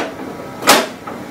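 The cover of a ZXP Series 8 card printer is shut, giving a single short plastic clack near the microphone, followed by a faint softer click against a quiet room background.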